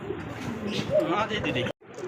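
A pigeon cooing softly under a person talking, low rounded coos close by, ending in a brief silence.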